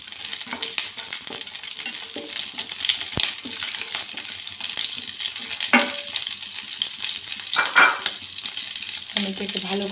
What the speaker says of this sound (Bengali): আমি এটাকে ভালো করে ভেজে নিচ্ছি